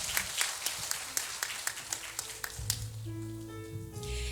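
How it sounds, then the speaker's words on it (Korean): A congregation claps during a Sunday service at Jeonju Yeongsaeng Church, with a burst of distinct hand claps for a couple of seconds before sustained instrumental church music takes over. "하나님께 영광의 박수를 올려드리겠습니다."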